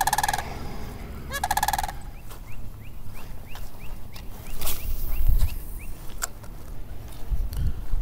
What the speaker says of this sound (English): Look at that sandhill crane right there. He's chirping, he's yelling at me.